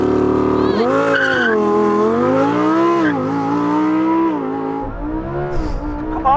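A Lamborghini Huracan Performante on a drag strip racing an SUV, its engine loud and close with a sustained rising and falling tone and tire squeal.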